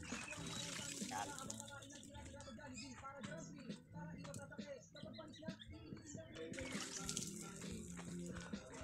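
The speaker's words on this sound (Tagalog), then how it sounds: "Tapos lubog natin ulit sa may malamig na tubig para hindi siya maluluto." A freshly plucked backyard chicken is dunked in cold water, giving a continuous soft sloshing and splashing that stays fairly quiet throughout.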